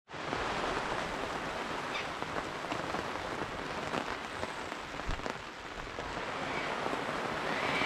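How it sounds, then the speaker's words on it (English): Heavy rain pours off a camping awning beside the Murray River during floods, a dense continuous hiss and patter with splashing runoff, close and steady throughout, with no voices. "it's back and the rain's pouring off the awning there"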